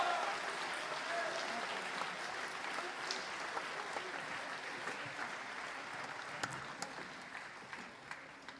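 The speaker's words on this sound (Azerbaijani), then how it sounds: "Gəlin musiqiçilərimizi bir daha alqışlayaq." An audience applauds the musicians at a live concert, steady dense clapping held throughout at moderate level, with a few louder claps standing out near the end.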